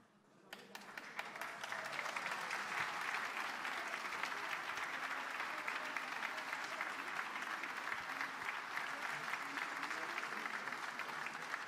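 A large audience applauds the authorities at the Lima mayoral swearing-in ceremony, the dense clapping swelling within the first two seconds and then holding steady and loud throughout.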